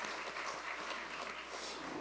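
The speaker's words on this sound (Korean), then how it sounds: "하나님께 영광의 박수 올려드리겠습니다." A church congregation applauds during a Korean worship service for a men's association annual general meeting, a soft, steady wash of many hands clapping that stays faint and distant throughout.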